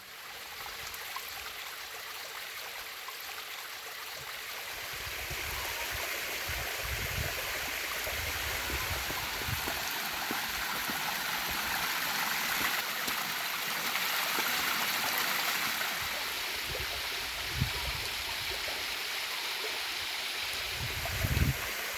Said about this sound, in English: Little river